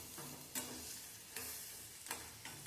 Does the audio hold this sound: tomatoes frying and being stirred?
yes